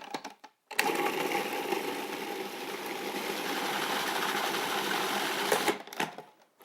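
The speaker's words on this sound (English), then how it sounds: "It's as simple as putting it in the food processor." A food processor blends raw marinara sauce with black pepper and herbs. It gives one steady, loud whirring drone that starts abruptly, holds for about five seconds and then cuts off, with no talk.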